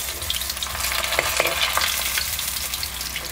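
Split green chillies fry in very hot oil, a dense continuous sizzle and crackle with small sharp pops scattered throughout, close and steady with no talking.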